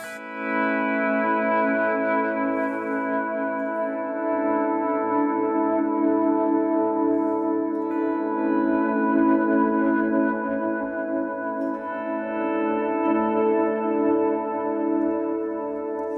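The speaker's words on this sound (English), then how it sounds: "So you pull them all together, and you can get these really great swells out of them." Sustained electric guitar chords swelling in smoothly, washed in heavy reverb and echoing delay, forming a big, ambient, continuous pad.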